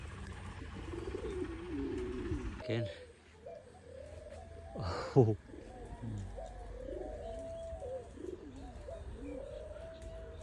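Pigeons cooing repeatedly in a village setting near mango trees, soft rising calls layered over a steady outdoor background, with a brief flurry of wing-like noise midway as the flock circles before landing.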